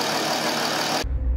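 A Mercedes G320 CDI with the OM642 diesel engine runs after repair, a steady broadband idle close by that cuts off abruptly, leaving a low rumble.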